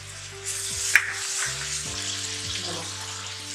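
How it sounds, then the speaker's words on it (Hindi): Garlic and turmeric frying with golden onions for palak paneer make a continuous close sizzle, with a sharp clink early on and light stirring scrapes, no speech. "गोल्डन हो गई प्याज हल्की सी, अब मैं इसके अंदर लहसुन ऐड करने लगी हूँ।"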